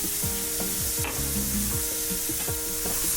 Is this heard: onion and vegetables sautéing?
yes